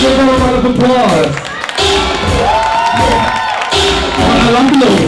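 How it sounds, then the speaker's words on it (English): Audience clapping and cheering loudly at a children's beginners performance, with whoops and children's shouting mixed into the applause and voices rising over it in waves. "give them a round of applause"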